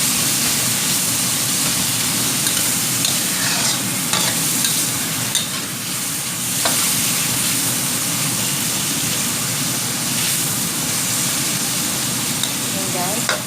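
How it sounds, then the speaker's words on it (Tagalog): Turkey bacon fries crisp in a pan with a continuous loud sizzle and spatter. Occasional scrapes and stirring knocks sound close up. "Itinatry ko muna yung bacon para mag-crispy."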